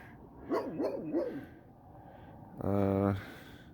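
A dog at a roadside stop in Langtry, Texas gives a few wavering whimpery yelps, then a short, loud, harmonically rich bark-like cry close by, with quiet gaps between.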